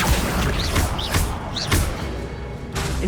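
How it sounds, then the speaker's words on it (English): Repeated Accio summoning-spell casts in Hogwarts Legacy, three punchy thumping bursts with a bright zing at roughly half-second intervals, then a steady game rumble trailing off. "Accio."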